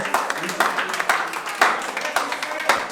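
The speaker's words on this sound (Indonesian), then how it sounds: "tepuk tangan dulu untuk kelompok 2 yang sudah memberikan presentasi" A class clapping for group 2 after their presentation, a quick run of irregular claps from a modest group, close and lively, with speech mixed in under the applause.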